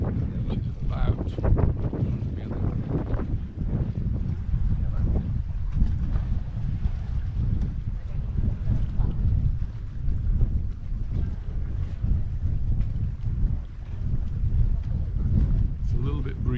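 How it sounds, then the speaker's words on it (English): Steady breezy wind buffeting the microphone by the sea at Santa Ponsa marina in Mallorca, a continuous low rumble that runs loud throughout with faint talk mixed underneath. "it's a little bit breezy today."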